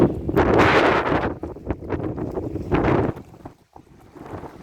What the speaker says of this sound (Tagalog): Lakas ng hangin, nakakabingi.